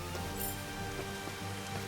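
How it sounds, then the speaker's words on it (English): Rain from the weather effect in Final Fantasy XV hisses steadily as a soft, even wash with faint scattered drop patter, quiet and continuous with no talking. "Turn on the weather, boom, you got the rain right there."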